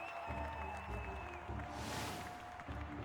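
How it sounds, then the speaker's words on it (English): Arena crowd in the video game Mortal Glory 2 cheering and applauding, a steady wash of many voices and claps peaking midway, mixed with game music and effects, no talk over it. "Crowd's cheering for the fact that one of my characters died because I'm winning right now"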